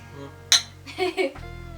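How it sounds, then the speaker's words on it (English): Glasses clink together in a toast, one bright sharp strike followed by a couple of softer knocks, close up, with a faint hum under it. "Cheers. Cheers, clink."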